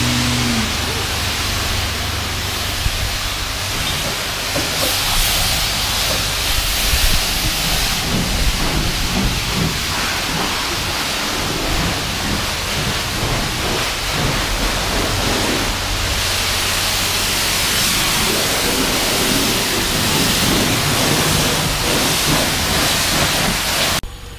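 A water spray hits a Dodge Hellcat during a car wash, producing a continuous loud broadband hiss that stays steady and dense for the whole stretch with no pauses.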